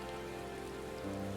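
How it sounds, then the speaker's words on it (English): Steady, soft rainfall patters continuously in Final Fantasy XIV: Endwalker, a low, even hiss of drops on surfaces with no voices present. "And the weather starts raining at the perfect time."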